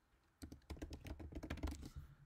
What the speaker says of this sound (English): So let's type again